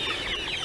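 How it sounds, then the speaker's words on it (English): Pastured chickens in a field tractor pen give a brief burst of clucking and soft chatter, close by, in under a second. "we're just getting started with these pastured chickens"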